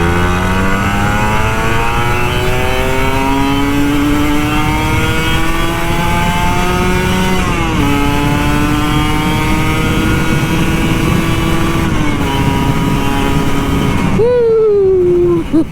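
Kawasaki Ninja RR 150 two-stroke motorcycle riding and accelerating, a loud continuous buzzing engine note climbing in pitch, dipping at a shift, then climbing again before a sharp drop near the end.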